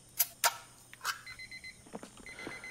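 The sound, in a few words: kitchen timer alarm going off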